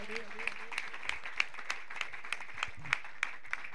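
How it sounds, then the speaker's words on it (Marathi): Sparse, faint applause at a cricket tournament prize distribution, with scattered individual claps landing in a loose rhythm and a brief voice near the start. "चला जोरदार टाळ्या वाजवा सरांसाठी"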